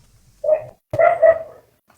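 A dog barks sharply nearby, one short bark followed by a quick double bark, with quiet pauses around them.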